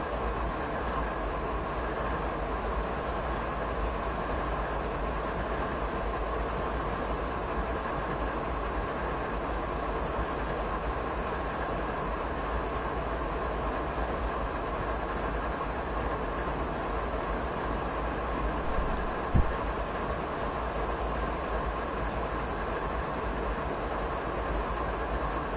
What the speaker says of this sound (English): The short freight train that you ordered.